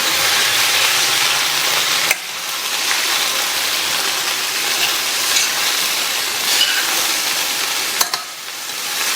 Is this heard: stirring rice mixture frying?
yes